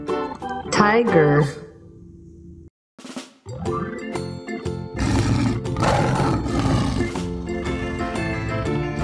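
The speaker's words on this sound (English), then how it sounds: "Tiger." A tiger roars in a toy animal play scene, a loud harsh roar, then a brief gap and a longer stretch of rumbling, layered sound that trails out.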